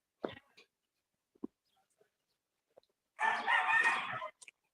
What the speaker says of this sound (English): I don't know if you can hear those roosters